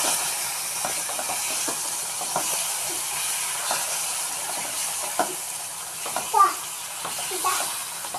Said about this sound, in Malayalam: നമുക്ക് ഇനി കുറച്ച് കഴിഞ്ഞിട്ടൊന്ന് ഫ്രൈ ആക്കി എടുക്കാം